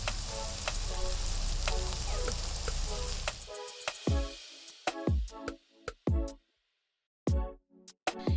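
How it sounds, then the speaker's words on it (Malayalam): Finely chopped onions with a little salt sizzling in a pan for a Kerala-style mushroom roast, a dense steady frying hiss that cuts off abruptly halfway, leaving a series of sharp ticking and clinking taps. "സവാള ഇതിലേക്ക് ഇടുന്നത് ചെറുതാക്കി അരിഞ്ഞിട്ട് വേണം കേട്ടോ"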